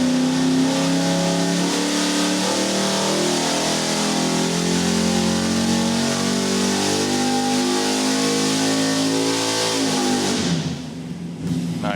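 A car engine is revved hard on a chassis dyno, holding a loud, steady high-rpm drone for about ten seconds before the throttle lifts and the note drops away abruptly.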